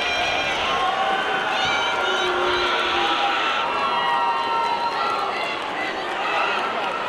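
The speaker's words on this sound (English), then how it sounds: "Don't think the North Little Rock fans like that one. I can hear the booing." North Little Rock fans boo a travel call at a 6A girls' state championship basketball game, a loud, sustained crowd roar filling the gym with a commentator's voice over it.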